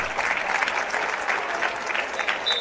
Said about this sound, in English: To a round of applause from the fans